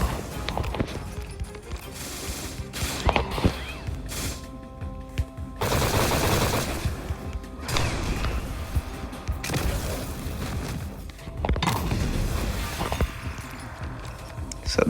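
Gunfire in the Blox Fruits video game, with rapid bursts of shots and sharp impacts repeating every second or two over several seconds of loud, dense game action, with no speech.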